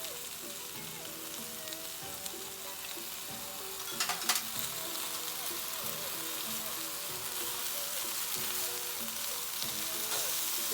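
Combination-style chow mein sizzles and crackles in a hot pan as sauce is stirred in, a continuous close frying hiss with scraping stir sounds and a brief louder burst partway through.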